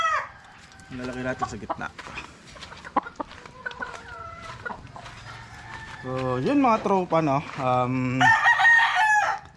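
Gamefowl hens cluck repeatedly and a rooster crows loudly near the end, while a person talks over the farmyard sounds.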